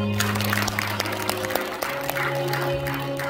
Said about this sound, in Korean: 다시 한번 박수 한번 하시죠.